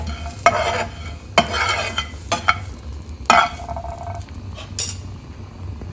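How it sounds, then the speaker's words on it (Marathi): Sautéed onion with garlic cloves, two or three green chillies and black pepper roasting in a pan, a sizzle broken by sharp spatula scrapes and clinks against metal, close and fairly loud. "कांदा असा परतून घेतला आहे त्याच्यामध्ये लसणाच्या पाकळ्या 2-3 मिरच्या आणि थोडी काळी मिरी हे पण आता आपण भाजून घेऊ"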